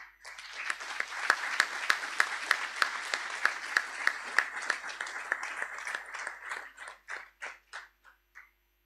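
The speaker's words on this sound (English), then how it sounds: "join me in lustily applauding all of these individuals for their hard work and the fruits of their labor." Audience applause at a secondary school graduation ceremony, a dense, sustained round of clapping with sharp individual claps standing out, gradually thinning to a few scattered claps before stopping.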